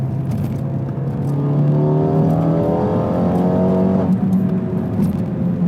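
A Renault Megane 3 RS Stage 2 running E85 revs through its exhaust, the engine note rising smoothly over a couple of seconds, holding near the top and then easing back, loud and close with no talking.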